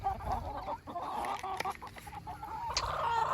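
Broiler breeder pullet chickens cluck and murmur close by, a flock of soft overlapping calls with occasional sharper notes and light rustling.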